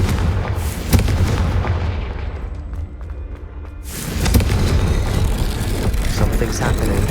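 A Confringo fire spell explodes in Hogwarts Legacy, a loud booming blast followed by rumbling, another burst near the middle, then a sustained roaring rumble.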